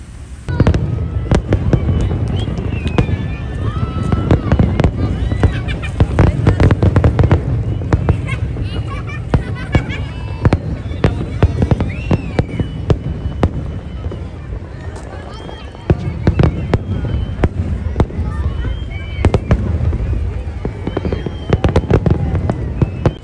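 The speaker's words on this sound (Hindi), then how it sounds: "अब चलते हैं ऐसी जगह जहाँ से फायर वर्क शो का अच्छा आनंद लिया जा सके" Night fireworks show at King Abdulla Park on the Dammam waterfront: dense, continuous volleys of loud bangs and crackles go off in rapid irregular bursts, with a short lull midway before the barrage resumes.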